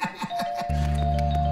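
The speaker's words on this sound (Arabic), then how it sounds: "الجرس ده؟" A doorbell rings with a sustained electronic buzz indoors, following a few soft knocking or bumping sounds, close and moderately loud.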